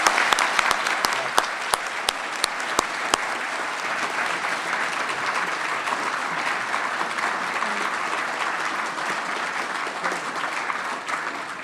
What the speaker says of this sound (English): let's give today's debaters a big round of applause